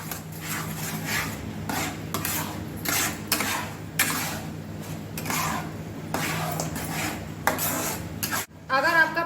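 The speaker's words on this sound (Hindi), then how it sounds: "और अब हम इसे घी के साथ पकाएंगे।" A mango and paneer mixture is stirred in a kadhai with ghee, with repeated scraping and rubbing strokes of a spoon against the metal pan, close and steady, over a low background hum and ending with a brief clatter.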